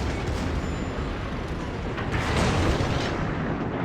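Secondary guns on a German Pommern tier 9 battleship fire during a naval battle in World of Warships, a loud continuous barrage of overlapping booms and rumbling blasts with no pause between shots.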